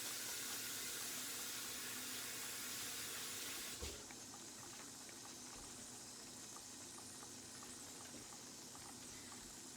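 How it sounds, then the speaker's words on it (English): Tap water runs into a kitchen sink in a steady broadband rush while hands are washed, with a brief clunk partway through and softer, splashier flow afterward. "So I will wash my hands."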